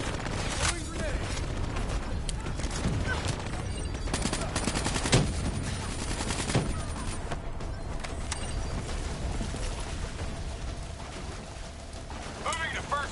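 Grenade blasts and gunfire in the Black Ops 3 campaign: dense, continuous game combat with repeated sharp bursts and broadband booms over a steady roar, with radio-style voices talking throughout.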